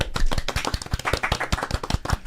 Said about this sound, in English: Little applause, please.